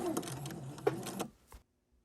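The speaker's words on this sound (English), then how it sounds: "At the end, we're going to backstitch" A sewing machine backstitches to lock the end of a quarter-inch quilt seam, its motor whirring steadily with a short burst and a brief tail before stopping into silence.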